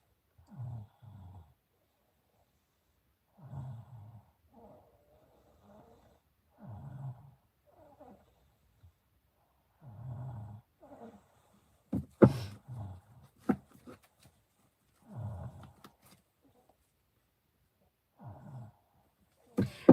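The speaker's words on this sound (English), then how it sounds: "He's snoring." A pet snores while asleep, slow rhythmic rasping breaths recurring every couple of seconds at close range in a quiet room, with a few sharper snorts and stirring noises midway.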